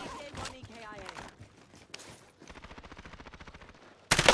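Gunfire in a shooting video game, with several bursts of rapid automatic shots mixed with other game sounds and ending in a loud close burst, over some background talk.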